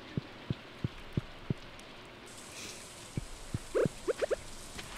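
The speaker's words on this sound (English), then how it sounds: "And it's raining. Of course it is." Steady, soft rain hiss in the farming video game Stardew Valley, overlaid by evenly spaced thuds of footsteps and a few short, tonal game blips near the end.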